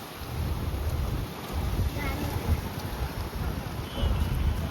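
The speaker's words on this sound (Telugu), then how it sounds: "వాన పడుతుంది" Steady rain hisses at a parking spot in Srisailam, with low wind rumble throughout, and a voice speaks faintly beneath it.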